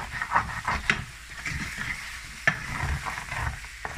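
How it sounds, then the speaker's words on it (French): Tomato paste fries in oil for a pig's feet stew, a soft, close sizzle with intermittent stirring scrapes and one sharper clink partway through. "il faut laisser revenir quelques minutes la pâte de tomate"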